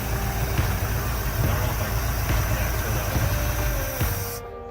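A 1962 Chevy engine pulled from an impound yard idles steadily and evenly at close range, a continuous low mechanical rumble that holds for several seconds before cutting off abruptly at the end.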